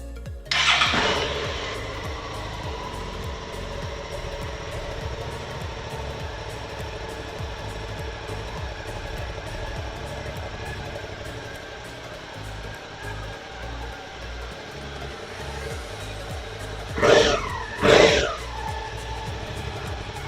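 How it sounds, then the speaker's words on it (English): A Suzuki V-Strom 650 XT motorcycle on its stock exhaust idles steadily and close by for about twenty seconds, with a sharp start-up burst at the beginning and two quick throttle blips near the end. "So that there was the sound of the stock exhaust."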